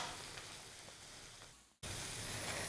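Pazham pori, battered banana fritters, deep frying in hot oil gives a steady, quiet sizzling hiss that drops out briefly near the end and then returns just as strongly.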